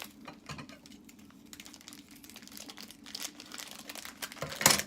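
Plastic bubble wrap around a mystery box parcel crinkles and rustles softly and steadily up close, ending in a sharper crackle, with no talking.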